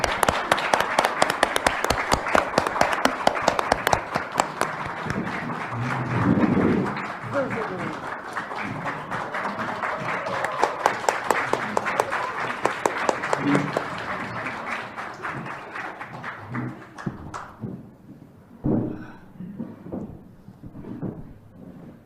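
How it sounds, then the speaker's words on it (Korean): A live lecture audience applauds to welcome a guest onto the stage, dense sustained clapping from a sizable crowd. The clapping thins out near the end as a voice speaks over it. "박수 부탁드립니다."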